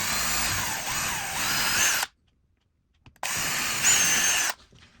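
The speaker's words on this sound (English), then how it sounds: "with the 3/32 drill bit, we're going to drill." A power drill with a 3/32 bit boring pilot holes for a child safety lock on an exterior sliding door, two loud close bursts of whirring, each about one to two seconds, separated by a brief silence.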